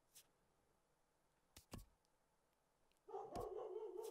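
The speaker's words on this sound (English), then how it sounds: "my dog needs to be quiet" A dog barks a few sharp times in a quiet room, then a louder burst of barking with a whine near the end, heard alone over low background hum.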